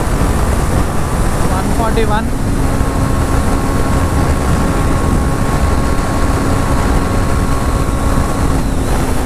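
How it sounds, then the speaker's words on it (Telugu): A 310cc adventure motorcycle engine runs hard near 140 km/h, a steady droning roar mixed with wind rush that holds constant throughout while someone talks over it. "కానీ ఇంజన్ ఎంత రెవ్ అవుతుందంటే చాలా రెవ్ అవుతుంది, చాలా సౌండ్ వస్తుంది."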